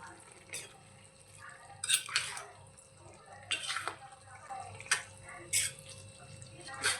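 A spoon scrapes and clinks against a pan while stirring a ridge gourd curry with dried lentil dumplings, giving irregular bursts of close metallic scraping over a low, quiet background.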